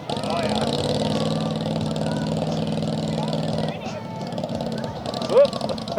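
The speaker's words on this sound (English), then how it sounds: "So this is Garden Tractor Pull." Garden tractor engine at a garden tractor pull during a bazaar weekend, a steady loud mechanical drone that runs through the clip and eases near the end, with people talking over it.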